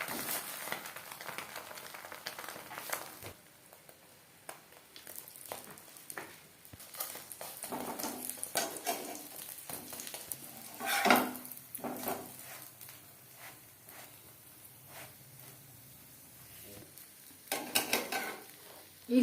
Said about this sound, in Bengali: এই সাইডটাও ক্রিস্পি করে ভাজা হয়ে গেছে